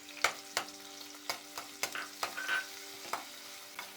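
Chopped onion frying in a pan for a peas pulao with egg gravy, a soft steady sizzle broken by sharp scraping clicks of a spoon stirring at an uneven rhythm.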